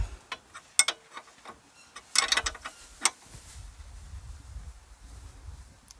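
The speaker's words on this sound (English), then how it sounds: "we'll tighten that up nice and tight" A ratchet tightens the nut on a tie rod end of a Mitsubishi 3000GT/GTO: quick runs of crisp clicking at close range, with irregular bursts and pauses and a low rumble of handling afterward, no talking.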